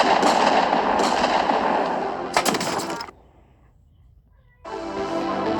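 Nail gun firing in a Call of Duty match, heard as dense, loud, crackling bursts of rapid shots with a brief lull of quiet before another volley starts.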